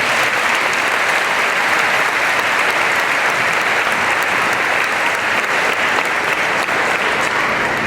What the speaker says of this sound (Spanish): Denle un aplauso maravilloso al Señor.